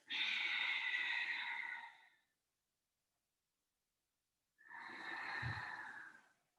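Two long, slow breaths during a seated digestive exercise, a close airy inhale of about two seconds, a pause of silence, then a breathy exhale, with no talking.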